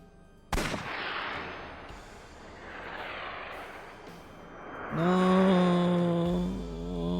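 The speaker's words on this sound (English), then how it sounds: "She shot your coffee." A single sharp gunshot from the video game AI: The Somnium Files, fired at a cup of coffee, cracks loudly and decays into a rumbling tail, followed by rising synthesized game tones.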